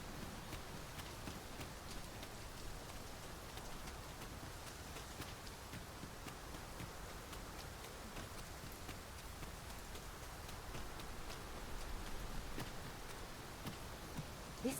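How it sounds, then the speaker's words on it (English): Steady heavy rain pours down continuously in the video game Dragon's Dogma II, a dense hiss of drops with no voices, holding evenly throughout. "This downpour seems unlikely to abate."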